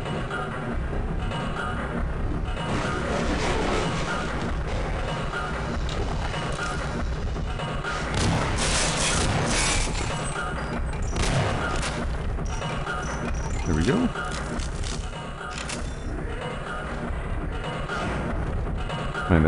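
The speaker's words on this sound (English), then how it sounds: "Man, that sound is so annoying, of those crates moving around." Crates grinding and clattering around in the video game Half-Life, set in mines: a continuous loud, dense rumbling wash with repeated crashes and thuds throughout.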